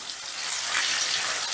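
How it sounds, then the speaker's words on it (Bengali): Paneer pieces lightly frying in oil in a pan over medium heat: a steady, soft, hissing sizzle that continues without a break. "গ্যাসের আঁচটা মিডিয়ামে রেখে এবারে পনিরগুলোকে হালকা করে ভেজে নেব।"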